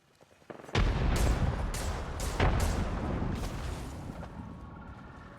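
A frag grenade detonates in a video game with a sudden loud boom, followed by further heavy blasts and a rolling rumble that slowly settles.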